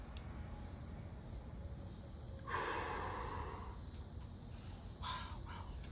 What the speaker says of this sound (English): We're gonna sniff this.